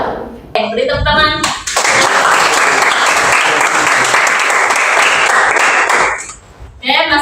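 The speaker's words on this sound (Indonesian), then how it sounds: "Beri tepuk tangan." Children in a classroom clap together in a burst of applause lasting about four seconds, loud and close, with an adult voice talking briefly before and after it.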